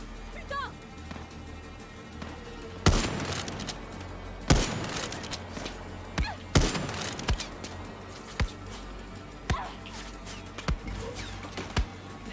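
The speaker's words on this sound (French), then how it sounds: "Qui a tiré?" Gunfire in the video game Far Cry 6: sharp shots crack out one at a time at irregular intervals, a few loud bursts and several fainter ones, over a low background with a voice now and then.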